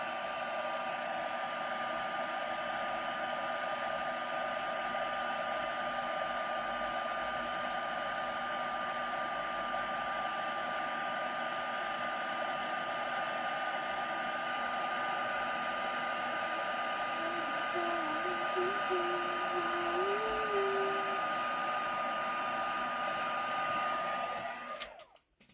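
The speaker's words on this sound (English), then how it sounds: "And I'm just heat setting that." A heat tool heat-sets embossing on a handmade card, blowing a steady, even whoosh like a hair dryer for about 25 seconds before it switches off abruptly at the end.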